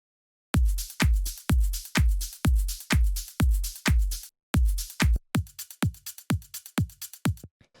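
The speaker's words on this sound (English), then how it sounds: "the next thing I'm going to show you here are the drums" Anjunadeep-style electronic drum loop: punchy kick hits on a steady four-to-the-floor pulse with bright claps and percussion layered over them, loud and dry, the pattern shifting into quicker hits near the end.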